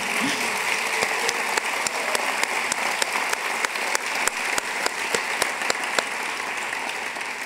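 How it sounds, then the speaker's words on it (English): Conference audience at the DanceUSA 2014 opening plenary applauding the staff, a sustained, even roar of many hands clapping with a few sharper individual claps standing out. "give an amazing round of applause for the DanceUSA staff"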